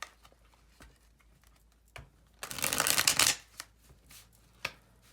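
A deck of message cards is shuffled for a reading: scattered soft taps and card flicks, then about a second of dense riffling, followed by a few more light snaps and taps.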